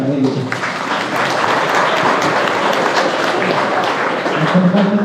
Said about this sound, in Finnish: aplodit totta kai heille